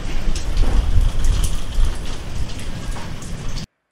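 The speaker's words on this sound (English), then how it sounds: "It's like it's raining outside." Steady rain sample, a dense hiss of falling drops with soft patter on surfaces, loud and close throughout before cutting off abruptly.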